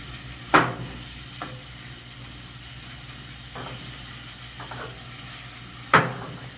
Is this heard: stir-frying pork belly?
yes